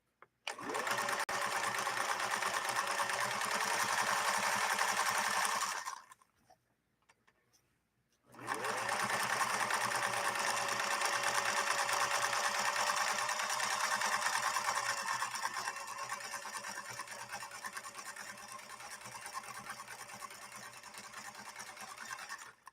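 A Viking 21E sewing machine stitches at a steady, fast whirr, running continuously for several seconds, stopping briefly, then resuming for a long run at increased stitch length.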